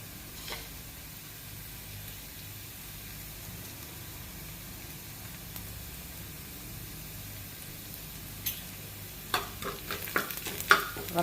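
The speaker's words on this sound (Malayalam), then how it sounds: "മിക്സാക്കി കൊടുക്കണം" Chilli flakes are stirred into a sizzling mixture in a frying pan, a steady soft hiss of frying underneath, with sharper scraping clicks of the spoon building toward the end.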